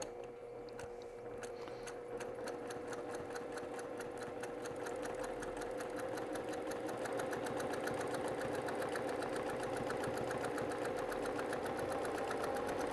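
A sewing machine stitches a single pass around trapunto quilting, running a fast, steady mechanical chatter of needle strokes that stays close and continuous from start to finish, with no talking.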